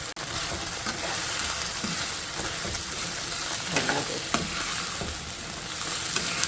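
Chana chilli in a pan sizzles steadily while sauce and cornflour mixture are stirred in, a continuous frying hiss broken by a few soft spoon scrapes and knocks, close and fairly loud, with no voices.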